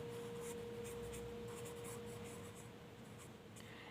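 A pen writes math working for a statistics lesson, a faint, soft scratching held low beneath a steady hum and room noise, with no voices.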